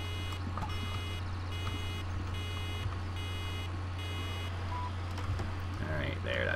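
In Farming Simulator 2013, a farm machine's fill-level warning sounds a regular series of steady electronic beeps over a constant low engine drone, with someone talking over it.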